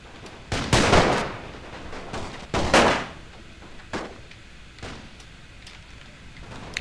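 Musket volleys in the Napoleon Total War battle game, two loud crackling rolling blasts followed by scattered fainter single shots, with battlefield noise underneath.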